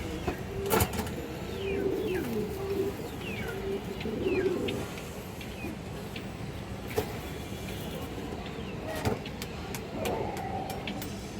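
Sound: silver and bezi pigeons cooing on a pigeon farm

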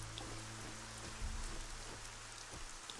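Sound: rain in the video game Gothic 4 ArcaniA

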